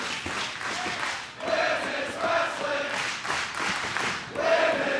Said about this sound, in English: And the appreciative Philadelphia crowd